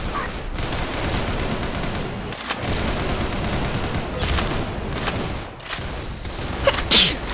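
Gunshots ring out in the video game Arsenal during a headshot, sharp cracks and bursts recurring over a noisy game background.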